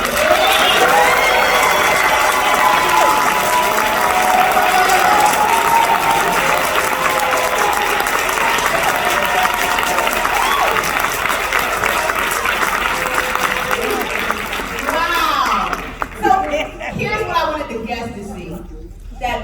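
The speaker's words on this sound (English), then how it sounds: "Please clap as loud as you can" Audience applause at a Hyperverse event at a Crowne Plaza, a steady dense wash of clapping mixed with crowd voices and cheering that carries for most of the stretch, then thins into scattered claps near the end.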